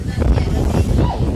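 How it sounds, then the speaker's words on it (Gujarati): Strong wind on Girnar mountain in winter buffets the microphone in a continuous loud low roar, with no clear voices over it. "જોરદાર પવન છે અહીંયા તો"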